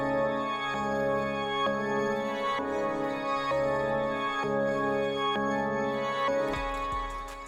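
A dark music sample with EQ cutting the low end, reverb and a halftime effect plays as slowed, sustained chord tones rising and falling, ending with a deep low boom and a burst of percussive hits.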